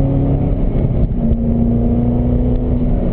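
Corvette ZR1 on a racing circuit at Spring Mountain, its engine droning loud and steady through an upshift into fourth gear, with a brief dip in pitch mid-way before pulling on, heard from inside the car.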